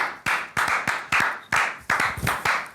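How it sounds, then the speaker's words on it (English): Studio clapping for a guest on an Arsenal fan show, a short run of about eight distinct loud, close claps in a fairly steady rhythm. "Big round of applause for him as well"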